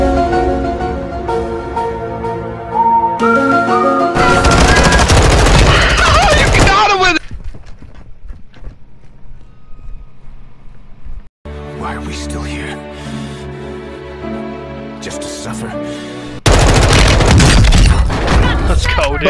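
Heavy bursts of gunfire from Call of Duty Warzone hit loud and close in two main volleys separated by a quieter stretch, with booming thumps underneath and players talking throughout.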